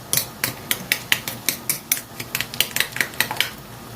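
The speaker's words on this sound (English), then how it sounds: "So I'll just mix everything together like so." A utensil beats breakfast ingredients in a bowl, about a dozen and a half quick, regular metallic clinks against the side, close and crisp, with no voices.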